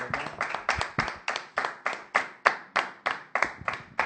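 Rhythmic hand clapping from a church congregation praising the Lord, about a dozen evenly spaced claps in steady tempo, close and clear with no talk over them.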